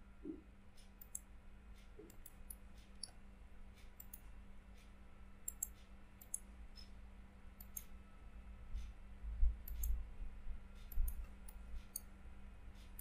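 Computer mouse clicks while working in Renga Architecture software, sparse faint single and double clicks over a low steady hum, close and quiet, with no talk.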